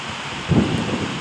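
During a rainstorm in Dammam, Saudi Arabia, a brief low rumble of thunder swells for a moment beneath a steady wash of rain.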